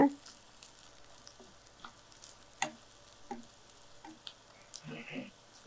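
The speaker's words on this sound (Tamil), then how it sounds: "இந்த பச்சை வாசனை போக நல்லா வதக்கிடுங்க." Masala sautéing in oil in a pan while cooking palak chana: a faint, low sizzle broken by several soft spoon scrapes and taps, with a brief busier stretch of stirring near the end.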